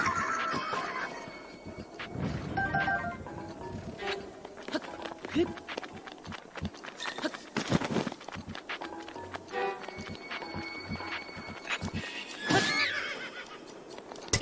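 Horse in The Legend of Zelda: Breath of the Wild neighing and whinnying several times over galloping hoofbeats, with game sounds and a voice talking at times across the run.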